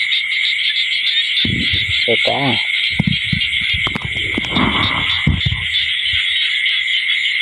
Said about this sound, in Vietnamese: Nãy ếch nó kêu quá trời luôn nhỉ